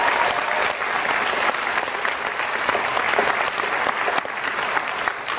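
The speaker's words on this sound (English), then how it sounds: "so let's give them a big round of applause." A crowd claps steadily for volunteers at a youth games event, a dense, loud applause that holds evenly throughout without pause.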